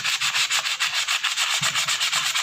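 Steady rhythmic rasping of a blade rubbed back and forth on a sharpening stone, a quick repeating stroke pattern heard up close with no talking, in a farm field setting.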